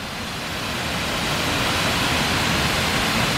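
Water rushes loudly and steadily at a hydro plant on the Androscoggin River, a dense, constant roar with no pauses or voices.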